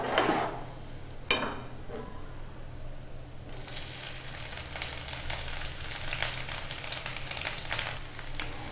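Grated coconut fries in a pan for Tamil coconut rice, giving a steady close sizzle. A couple of early scraping stirs are followed by brighter crackling as the coconut is tossed, with no speech.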